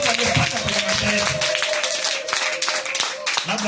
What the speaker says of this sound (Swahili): Hebu nisikie makofi kwa ajili ya Kristo kwa mambo makubwa aliyofanya kwenye maisha yetu.